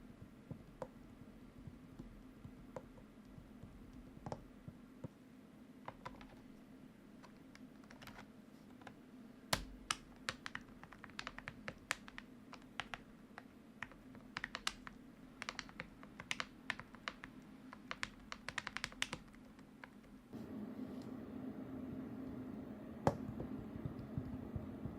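Fingers tap on a giant touchscreen's on-screen keyboard with a slight tactile bump, producing soft, rapid, irregular clicks in a quiet room, growing denser in the middle before a louder background hum sets in near the end.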